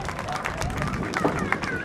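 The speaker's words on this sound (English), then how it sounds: "How about a nice big round of applause for Josiah Blake, everyone" Brief, lively round of clapping from a crowd at a high school track meet awards presentation, scattered hand claps mixed with crowd murmur and voices, fairly close and moderately loud.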